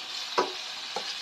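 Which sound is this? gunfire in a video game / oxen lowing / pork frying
pork frying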